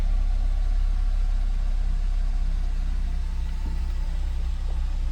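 Ford Ranger engine idling after a cleanout with a new filter fitted, a loud steady low rumble close by with only slight variation as it settles.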